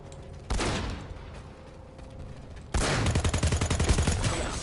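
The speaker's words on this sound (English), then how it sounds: "Someone's shooting at us." Gunfire in Planetside 2 opens with a single loud burst, eases into a quieter stretch, then a rapid, sustained automatic volley rattles on, close and loud.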